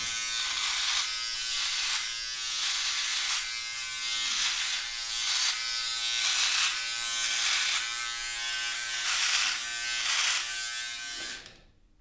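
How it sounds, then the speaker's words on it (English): A Philips OneBlade electric trimmer buzzes continuously while cutting hair, a close, steady, high-pitched drone that swells and dips slightly in regular pulses before cutting off at the end. "I hear it trimming, it's doing something."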